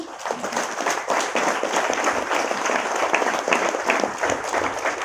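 A crowd applauds, many hands clapping in a dense, steady patter at moderate loudness for several seconds.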